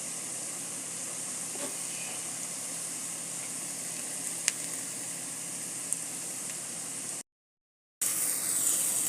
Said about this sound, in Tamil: நெக்ஸ்ட்டு நம்ம பூண்டு போட்டு வதக்கிடலாம். பச்சை மிளகாவும் போட்டுடலாம்.